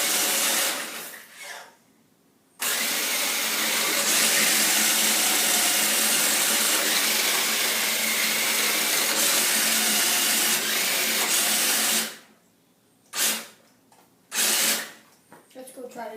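The electric motor of a Fast Lane Power Strike RC car runs with a loud, steady high whine for about ten seconds, with short bursts of revving before and after, close to the listener.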